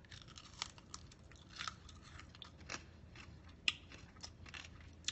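Crunchy bites and chewing on a bacon and egg sandwich, a handful of crisp, close crackles spaced irregularly over a quiet background.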